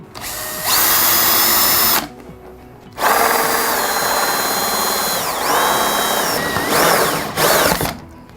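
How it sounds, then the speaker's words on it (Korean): Electric drill boring a small hole in a plastic part for a flood-recovery gadget, whining loudly in two sustained bursts with a brief pause, the pitch dipping and rising as the bit bites. "드릴로 구멍을 뚫다 보니까"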